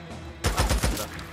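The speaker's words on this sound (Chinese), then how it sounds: "有机枪啊" Rapid machine gun bursts in the video game Days Gone, a quick rattling volley of close shots that breaks in suddenly after a brief, quieter lead-in.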